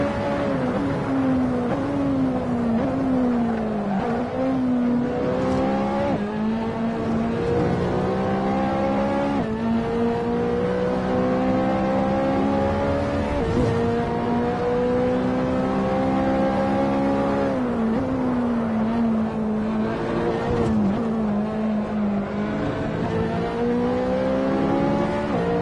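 Ferrari race car engine in the Assetto Corsa racing game at Monza, a steady loud engine drone that climbs and drops in pitch through repeated gear changes and throttle lifts, with no talk over it.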